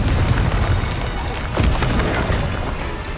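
A Confringo explosive spell blasts in Hogwarts Legacy, a loud crackling boom with splintering burst around the middle, surrounded by rumbling combat noise and a voice calling out.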